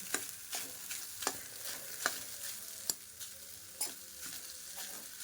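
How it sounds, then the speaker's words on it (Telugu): Cumin rice in oil is tossed and stirred in a pan, with a quiet sizzle under repeated spatula scrapes and clinks at an irregular rhythm, close by and fairly soft. "అదంతా ఆరే వరకు మనం ఇలా కలుపుకుంటూ టాస్ చేసుకుంటూ ఉండాలి"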